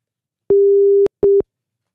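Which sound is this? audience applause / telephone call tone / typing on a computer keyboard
telephone call tone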